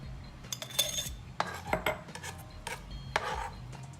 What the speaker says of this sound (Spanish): Ahora echaremos la cebolla en nuestro contenedor